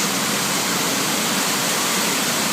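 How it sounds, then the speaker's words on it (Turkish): The Kurbağalıdere creek in Istanbul runs high, close to overflowing, with a loud, continuous roar of rushing water that fills the whole scene with no break and no voices. "Mutlaka dere taşacaktır."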